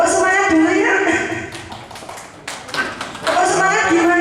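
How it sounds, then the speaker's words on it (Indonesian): A group of teachers and staff performs a rhythmic clapping routine, tepuk semangat, at a school session, crisp patterned claps mixed with voices chanting along, loud and close, with a brief lull midway before clapping resumes. "Tepuk semangat dulu ya."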